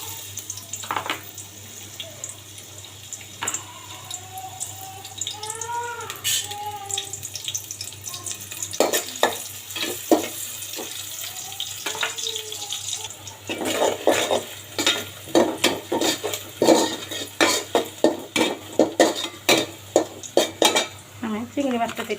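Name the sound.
onion being added and fried in a pot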